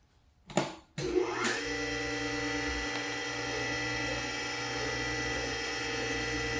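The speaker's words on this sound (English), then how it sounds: "We're ready to grind." A surface grinder wheel grinding a blade: a couple of sharp knocks, then a steady high whining hum with grinding hiss that holds close and even, no talking.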